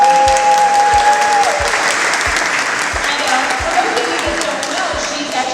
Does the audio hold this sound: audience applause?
yes